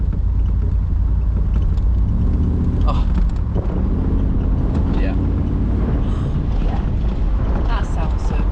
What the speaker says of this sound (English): You don't even need to accelerate just to hear that little gurgle.